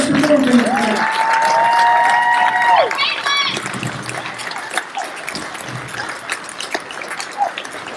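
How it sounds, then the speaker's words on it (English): Crowd applause and cheering for performers at the White Cloud Extravaganza 2022 show rise behind a sustained whistle or tone, then continue as a steady, moderately loud clapping wash with scattered shouts. "let's have a round of applause for everyone who's performing tonight"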